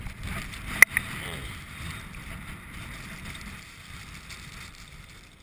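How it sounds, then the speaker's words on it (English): A strong wind gust sweeps across a frozen lake during a winter snowstorm, a steady low roar buffeting the microphone, with a brief sharp knock near the start. "Man, that was a good little gust."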